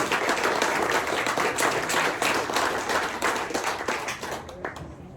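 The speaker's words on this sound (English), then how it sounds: "how about a round of applause for them" Applause from a crowd at a Missouri motocross hall of fame banquet, steady dense clapping filling the room for about five seconds before tapering slightly at the end.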